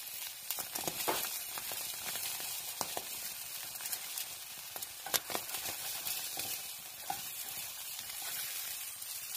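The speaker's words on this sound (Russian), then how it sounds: "Ну а яичница жарится" Steady crackling sizzle of an egg frying in a pan inside bread, quiet and close, with a few soft clicks and no voices.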